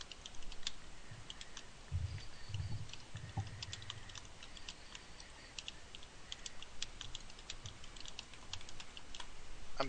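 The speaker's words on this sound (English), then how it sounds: "I'm just typing out notes real quick" Computer keyboard typing out notes during a Dungeons & Dragons tabletop session: steady, close clicking keystrokes in quick irregular bursts, with a few low thumps and no talk.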